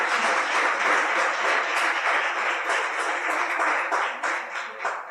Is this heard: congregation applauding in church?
yes